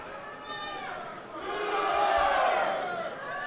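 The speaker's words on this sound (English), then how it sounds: "Got some chants in the crowd." Spectators chant together at an MMA event, a rising, swelling group chant that peaks and then fades slightly as it carries across a large arena.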